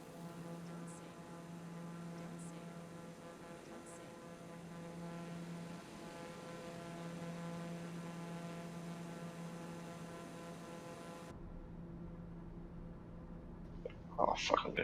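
A steady propeller drone of a plane flying over water in Microsoft Flight Simulator hums on evenly for many seconds, then cuts out abruptly into quiet broken by a few faint knocks.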